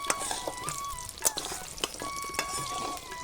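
Onion fritters (peyaji jhuri bora) frying in hot oil in a village kitchen, a steady close sizzle with occasional stirring clinks and taps.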